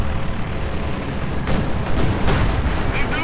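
Dense battle noise in Company of Heroes 2 as T-34 and Panzer IV tanks trade fire, with loud booming shots and explosions packed together over a continuous rumble.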